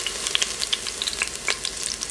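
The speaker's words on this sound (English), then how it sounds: "After about 10 seconds, we add in our teaspoon of garlic," Garlic sautés in extra virgin olive oil in an Instant Pot, a continuous close sizzle full of rapid bright crackles and spits with no voices.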